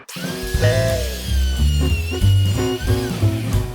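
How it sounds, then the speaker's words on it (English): A router table fitted with a 1/2 inch rabbet bit cuts wooden door rails, its loud, close, tonal motor whine rising and dipping as the bit takes the wood. "I have my router table set up with a 1/2 inch rabbet bit on it, and I'm ready to go to cut my rails."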